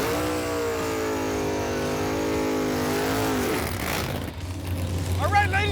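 Two eight-second Roadkill drag-racing cars rev hard in a loud, steady engine drone with rising pitch, then launch and pull away, leaving a lower rumble and brief crowd-like noise behind.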